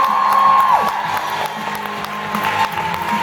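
A live comedy audience at a 2017 stand-up show claps and cheers, a steady wash of applause and crowd noise that carries on throughout, fairly loud and close.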